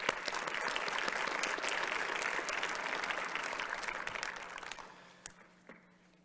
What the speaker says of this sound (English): Just a warm applause to the commissioners again,